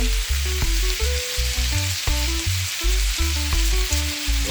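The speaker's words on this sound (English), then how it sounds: "This is the last stir I'm going to make with my saltfish and ackee." Ackee and saltfish frying in a pan for a Jamaican meal, giving a steady close sizzle with occasional stirring, while faint tonal background sound runs throughout and nobody speaks.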